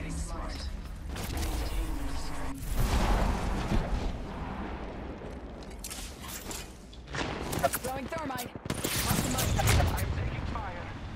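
Gunfire rattles through an Apex Legends arena match in rapid bursts among mechanical clatter and impacts, with in-game voice lines speaking over the shooting.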